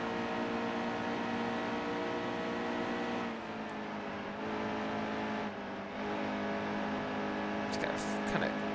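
A race car engine in the NASCAR Heat 2 video game holds a steady, sustained whine, briefly dropping and lifting as the throttle is worked, and a commentator talks over it throughout.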